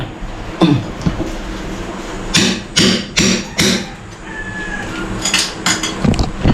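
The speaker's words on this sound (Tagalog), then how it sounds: "Paluin ko na rin tong ano. Martilyo ko na lang." Several sharp metallic hammer blows ring out in an irregular cluster while breaking out a bathroom toilet bowl, loud and close, with clattering and scraping between strikes.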